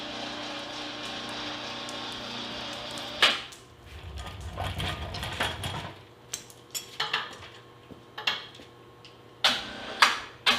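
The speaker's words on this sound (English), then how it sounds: "Put the cotter pin in." Sharp metallic clicks and clanks from fitting a cotter pin into an appliance hand truck during an upgrade, with a low rumble in the middle and scattered taps toward the end, close by.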